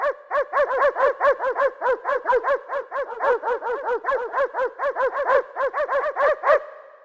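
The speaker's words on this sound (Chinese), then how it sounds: "594号狗叫。" Dog bark effect from an Athena NK5.5 digital piano: a rapid, evenly spaced run of about two dozen synthetic yapping barks, loud and close, repeating almost mechanically before stopping abruptly.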